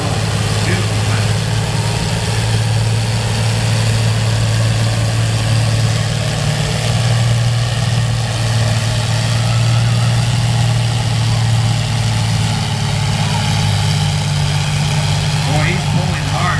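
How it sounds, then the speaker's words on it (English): A 40-year-old tractor at a tractor pull, its engine droning steadily and loudly at a constant pitch for the whole stretch, with an announcer's voice faintly present under the roar. "What a beautiful tractor it is."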